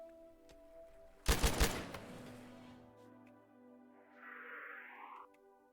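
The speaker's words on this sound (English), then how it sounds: "You can hear people out shooting on the range." A short burst of gunfire from people shooting on a range in the Rimworld video game, a loud cluster of rapid cracks followed by a fading tail over game hum, then a softer electronic swoosh.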